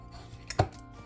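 A utensil cuts into a pecan pie in its pan, one brief scrape followed by a sharp knock against the pan, close and isolated.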